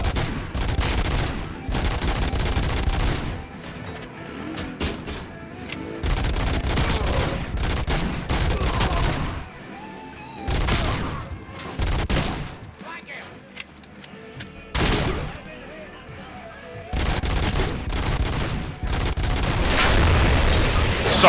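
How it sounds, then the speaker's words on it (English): Robocop fires a very rapid automatic weapon in Robocop: Rogue City, with loud sustained bursts of gunfire separated by short pauses and occasional heavy booms, and a voice talking between them. "Good thing you fire 55 bullets per second."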